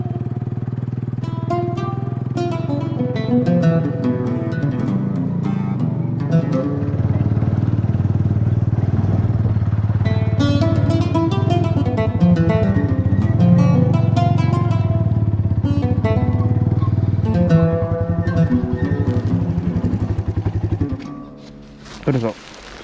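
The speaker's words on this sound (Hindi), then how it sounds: "तो यहाँ पे भी मैंने मोटरसाइकिल का इंतखाब किया है।" A motorcycle rides through a village in rural Pakistan. Its engine drones steadily and close up under someone talking throughout, and the engine drops away near the end.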